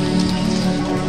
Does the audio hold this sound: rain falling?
yes